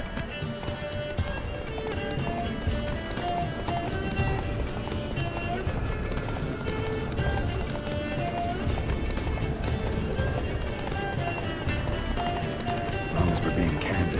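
Roach, the horse in The Witcher 3, gallops hard in steady, rhythmic hoofbeats with an occasional whinny, running throughout with voices over it.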